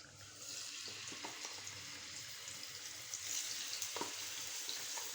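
Fish fries in a pan with a soft, steady sizzle and hiss, faint and close, broken by a few small clicks and bumps.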